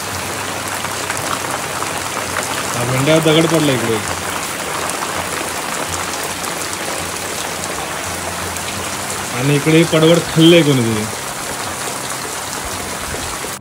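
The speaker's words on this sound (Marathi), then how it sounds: "पाऊस पण पडायची सुरुवात झाली, मोठा पाऊस झालाय" Heavy rain falls steadily on a village home, a constant broad hiss throughout, with people talking over it in two short bursts.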